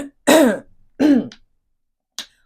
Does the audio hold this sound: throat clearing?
yes